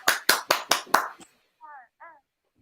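About five sharp, evenly spaced hand claps ring out close and loud, followed by a short silence and two brief voiced sounds.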